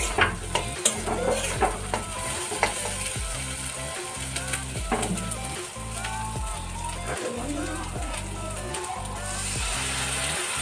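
Spice paste with chilli powder and a splash of water sizzles loudly in a pan, with a steady rhythmic scraping of stirring throughout.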